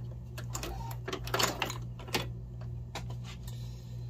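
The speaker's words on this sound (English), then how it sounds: "Sometimes the thread does not like the first stitch, so I gotta mess around with it a little bit" A sewing machine stitches the welt of a purple boot, making a close run of irregular short mechanical clicks and taps with brief pauses.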